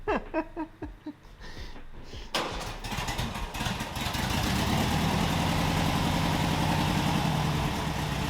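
A Beach Buggy's engine in GTA Vice City, a few sputtering bursts that catch and settle into a loud, steady, buzzing idle that fills the rest of the clip.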